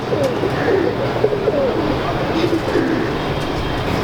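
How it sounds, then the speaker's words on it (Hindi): Soft cooing from old Teddy pigeons repeats in short rounded phrases over a constant background rumble, fairly close, with no talking. "ये पुराने टेडी कबूतर हैं जी"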